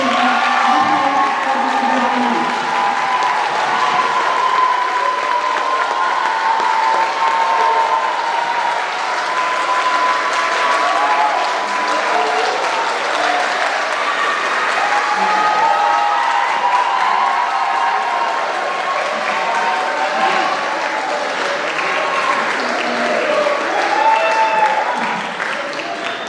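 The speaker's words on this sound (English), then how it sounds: "another warm round of applause for this year's Sport Distinction." Sustained audience applause with some cheering fills a school hall at a National Honor Society induction ceremony, steady and loud throughout.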